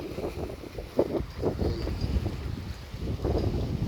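Strong wind buffets the microphone in rough, roaring gusts near the Maribago bridge, with a low rumble that rises and falls throughout.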